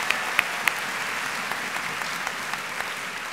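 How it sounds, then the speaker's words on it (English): Steady applause from a school district convocation audience fills a large hall, a dense continuous patter with a few sharper claps near the start, and no talking over it. "I think it's deserving of another round of applause as he exits."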